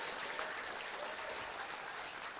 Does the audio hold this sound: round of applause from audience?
yes